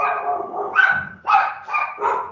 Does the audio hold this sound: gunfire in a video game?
no